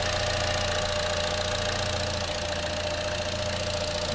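A 2014 Buick Encore's 1.4 liter turbo engine idles smoothly, a steady low hum with a faint even ticking, heard close and fairly quiet without talk.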